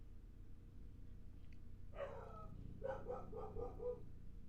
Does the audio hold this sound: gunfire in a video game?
no